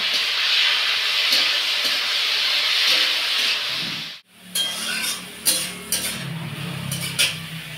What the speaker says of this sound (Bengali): লাউ শাকটা ভালো করে ভেজে নিয়েছি